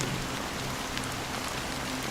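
Steady rain falling in the game Honkai Star Rail, an even, close hiss of drops on surfaces with no other sounds.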